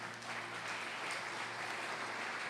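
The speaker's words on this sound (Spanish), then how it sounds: "Denle un aplauso al Rey de Reyes" A church congregation clapping together, a dense, steady wash of applause filling the room for a couple of seconds without a break, with no talking over it.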